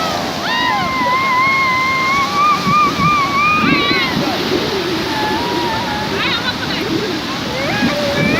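Steady broadband sea surf from waves on Puri beach roars continuously and loudly, while children's and adults' voices talk and call over it throughout.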